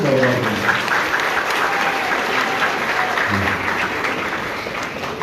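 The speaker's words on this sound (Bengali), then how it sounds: "আমি আপনাদের সবাইকে অনুরোধ করবো করতালি দিয়ে ওকে অভিনন্দিত" Sustained audience applause at a political rally in West Bengal, a dense, loud crowd clapping that fades slightly toward the end.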